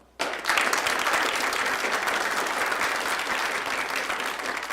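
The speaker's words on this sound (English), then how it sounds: "Those who believe yes, please applaud." A town hall audience at a televised debate on gay marriage bursts into loud, sustained applause that starts abruptly and holds steady throughout, with dense clapping and no talking over it.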